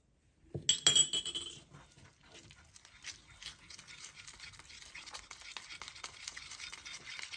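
A spoon stirs coffee into a bowl of sifted powdered sugar glaze, opening with a few sharp clinks against the bowl, then a steady soft scraping and swishing that carries on to the end.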